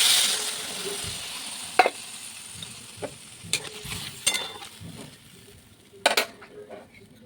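Water poured into a pan of frying hilsa fish with taro stolons: a hissing sizzle that fades over time, broken by several sharp knocks and scrapes from stirring.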